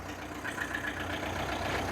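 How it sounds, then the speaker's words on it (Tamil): A Mahindra Bolero engine idles with a steady low rumble, close and continuous, with no voices. "இந்த இன்ஜினை ஸ்டார்ட் பண்ணி காட்டு"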